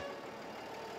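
A farm tractor warming up before a drive to a farmers' protest in The Hague, its engine idling in a steady, low, continuous rumble with no voices over it.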